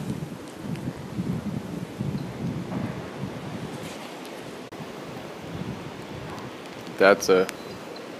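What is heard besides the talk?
wind gust during Hurricane Irma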